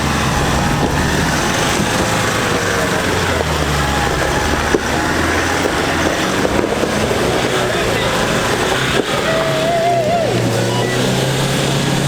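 A 4x4 vehicle drives slowly down a rough off-road track, its engine a steady low drone under continuous wind-like rumble, with people talking over it throughout.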